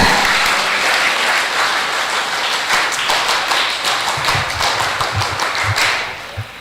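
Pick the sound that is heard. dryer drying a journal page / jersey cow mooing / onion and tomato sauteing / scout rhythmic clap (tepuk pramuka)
scout rhythmic clap (tepuk pramuka)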